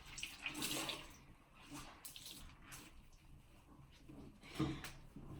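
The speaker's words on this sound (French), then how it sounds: "Donc là je rince, j'en ai partout." Water splashes in short, uneven bursts as a face is rinsed over a sink, faint and close with brief pauses between splashes.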